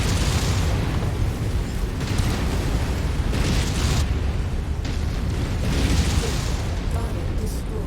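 Deep, sustained rumbling explosion as a target is destroyed in MechWarrior 5, a dense roar lasting several seconds with layered blasts rolling over one another, loud and near.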